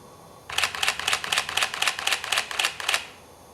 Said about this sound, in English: The continuous shooting speed is a respectable 4 frames per second.